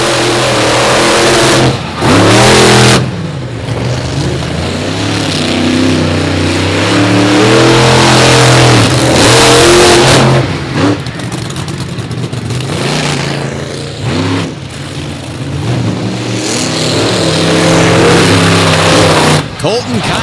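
Racing trucks roar with engines revving throughout a race, loud and sustained, with repeated rising pitch sweeps as they accelerate and pass, under an announcer's commentary.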